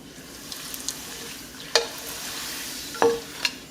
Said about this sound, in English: So I'm gonna dip them for a quick fry, okay?